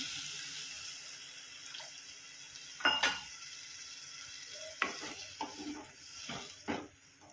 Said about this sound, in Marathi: पाणी टाकते